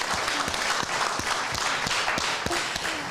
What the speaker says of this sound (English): Jade, we can applaud her.